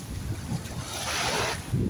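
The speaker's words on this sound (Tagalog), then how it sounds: "Uy, lumalakas yung alon." Sea waves roll and wash at a beach in Kuwait under gusting wind buffeting the microphone, with a surge of surf building toward the end.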